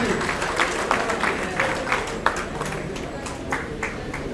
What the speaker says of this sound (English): A round of applause for Professor Albarka.